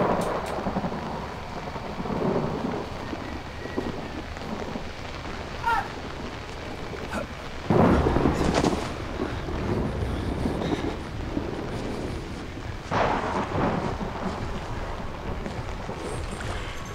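Thunder and rain in the horror video game Outlast: a constant soft hiss of rainfall with low rumbling rolls, including a sudden louder crack around the middle and another swell near the end.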